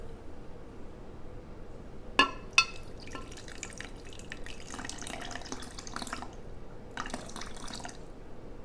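Water poured into a container on a kitchen scale, a couple of sharp clinks followed by soft, intermittent trickling and splashing, fairly faint over quiet room noise.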